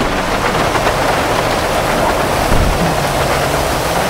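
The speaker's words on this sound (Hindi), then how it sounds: "इतने बारिश भी जो है दोस्तों ख़त्म हो ही जाएगी" Steady, dense rain hisses throughout a scene in the video game GTA 5, a continuous wash of noise with no clear breaks.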